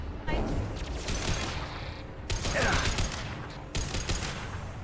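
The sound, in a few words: pulse rifle gunfire in the video game Mass Effect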